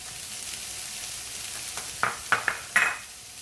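Vegetables for Manchow soup go into a pan and are stirred, with a soft sizzle underneath and four sharp scraping clacks of a spoon against the pan near the end.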